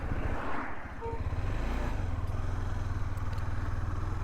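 A KTM Adventure 390 motorcycle riding off-road, its steady engine drone and rumble running close and loud throughout, with some rattling clatter from the rough ground.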